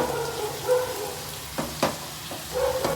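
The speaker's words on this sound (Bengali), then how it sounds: "পেঁয়াজটা বাদামি করে ভাজতে হবে।" Onions sizzle steadily in hot oil, with a few sharp scraping stirs of a spatula partway through; no voices.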